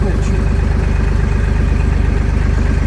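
A tractor engine chugs steadily under a ride toward a beach in Phuket, a loud, close, rhythmic low putter throughout.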